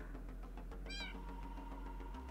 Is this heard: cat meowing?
yes